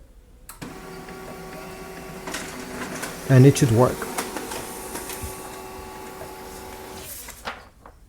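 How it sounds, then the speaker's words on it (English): An HP LaserJet MFP M234sdw laser printer connected by USB cable starts with a whir, rattles and clunks as paper feeds through, then winds down; someone speaks briefly over it. "This printer is able to print very quickly."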